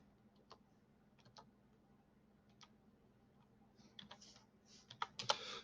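Soft key presses tap out a school lunch number and password on a computer keyboard, sparse at first and then quicker clustered clicks, all fairly quiet and close.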